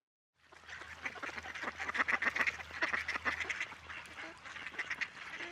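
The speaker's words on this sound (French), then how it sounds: "flotte le harlebièvre, un canard plongeur principalement consommateur de poissons" A goosander, a fish-eating diving duck, calls on open water, giving a run of quick, raspy repeated notes at moderate distance over a faint steady background hum.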